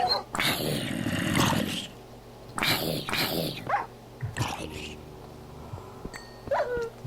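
A dog in the video game The Corrupted Path gives a few loud, rough barking bursts with short pauses between them, close and prominent, then sharper yelps.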